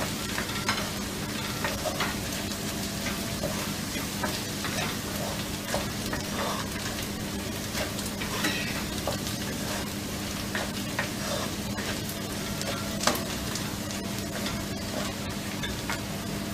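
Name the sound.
red chili and turmeric powder frying, stirred in pan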